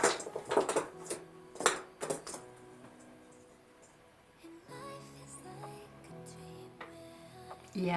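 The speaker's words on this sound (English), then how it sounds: "that is my cat playing while I'm filming" Clattering and knocking of small objects at close range as a cat plays, several sharp hits early, then quieter rattles and shuffles with a faint tonal hum.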